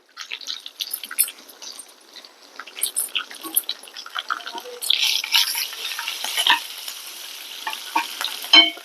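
Spices and asafoetida sizzle in hot oil for a dal tempering as a spoon stirs and scrapes the pan. Crackling bursts come close and intermittently, then a denser sizzle swells toward the end.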